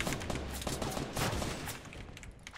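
Dense Fortnite gunfire, likely assault rifle, rattles in a continuous rapid volley close by with no talk over it.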